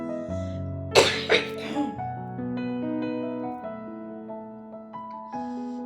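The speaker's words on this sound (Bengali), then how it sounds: "সরি এত কাশি হচ্ছে আমার" A woman coughs in a few sharp bursts near the one-second mark, loud and close, with steady music running underneath throughout.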